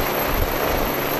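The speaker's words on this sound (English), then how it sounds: "the pilot, he will be arriving by helicopter" A loud, steady rotor and engine roar of a helicopter bringing a pilot to a container ship at sea, close and continuous over a brief moment.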